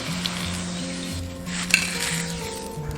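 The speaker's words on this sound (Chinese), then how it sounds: "下入煮熟的鹌鹑蛋，炸至虎皮状" Boiled quail eggs deep-frying in hot oil until their skins blister, giving a steady, close sizzle and crackle with a few faint clinks of cookware, and no voices.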